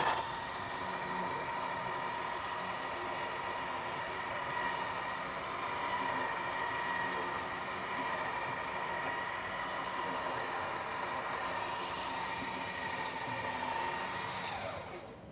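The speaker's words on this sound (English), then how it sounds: "After running the winch motor for about 30 seconds, it starts to get hot." Electric winch motor running steadily while reeling in line, a continuous whirring hum with a whiny mechanical tone held at an even loudness for about fifteen seconds, alone with no talking.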